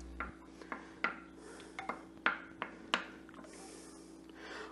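Meatballs stirred in orange soda inside a slow cooker, a spoon scraping and knocking against the pot in about seven short, distinct taps and rubs, close and clear with no talking.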